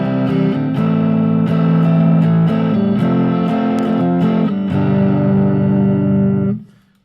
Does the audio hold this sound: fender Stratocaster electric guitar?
yes